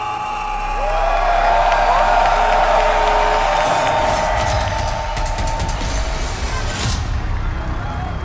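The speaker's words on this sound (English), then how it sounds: "So Copenhagen, let me hear you roar!" A Copenhagen arena crowd roars and cheers at the BLAST Fall CS2 grand final between FaZe and Vitality. A loud amplified voice rises over the noise at first, then a dense, sustained wall of crowd noise continues with scattered whoops.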